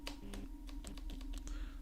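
Fingers tap out a quick, uneven burst of keystrokes on a glitchy computer keyboard, close and fairly quiet, with a low electrical hum underneath and no talking.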